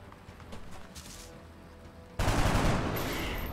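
Soldiers firing in the turn-based game XCOM: Enemy Unknown: after quiet clicks and faint ambience, a sudden loud burst of rapid gunfire erupts and rattles on to the end.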